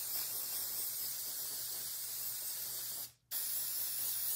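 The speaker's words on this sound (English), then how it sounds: "So I'll just go ahead and start spraying." Sealant sprays in a steady, close hiss onto acrylic paint coasters, running continuously for about three seconds, then stopping briefly before a fresh burst resumes.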